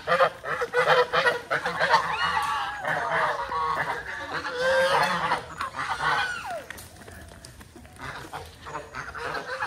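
A flock of geese on a farm honks loudly and continuously at close range, with hens clucking in the mix.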